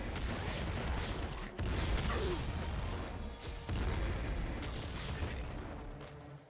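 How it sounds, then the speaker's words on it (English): Nuke launcher blasts in the video game Nuclear Throne form a dense, noisy barrage of crashing booms with brief gaps between bursts, loud and cluttered. "I'm destroying things with this nuke launcher"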